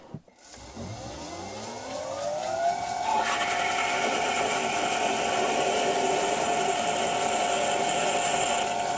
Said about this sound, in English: 4mm pilot drill.